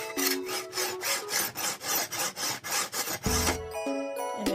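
A knife blade is drawn back and forth through the sharpener slot of a Drew Barrymore electric can opener, giving a steady series of rhythmic, close rasping strokes with a metallic tinkle near the end.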